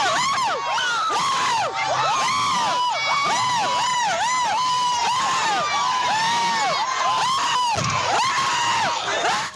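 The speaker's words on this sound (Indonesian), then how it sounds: "Teriakan warga mewarnai proses penangkapan terduga pelaku tindak asusila di Pasuruan, Jawa Timur" Residents in Pasuruan, East Java shout at a sexual abuse suspect being arrested, a dense crowd of overlapping angry yells and whoops that stays loud and close throughout.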